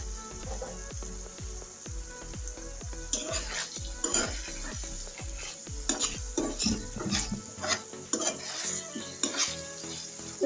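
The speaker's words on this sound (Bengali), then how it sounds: "আমি উস্তটা পাঁচ মিনিট ধরে কষিয়ে নিয়ে নিতে থাকবো আর বারবার লাড়া দিব" Bitter gourd stir-fried with rohu fish in a pan, sizzling steadily while a spatula scrapes and clanks against the metal in repeated stirring strokes, close and moderately quiet.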